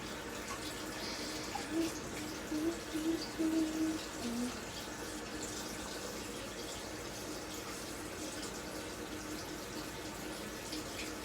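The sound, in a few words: pasta rinsed with cold tap water in a sink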